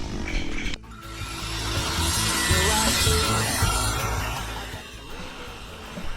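Chainsaw cutting oversized 6x6 wooden center poles down to 4x4s for a floating home in El Salvador, a steady loud engine drone with rising and falling cutting strain throughout, after a brief dip near the start.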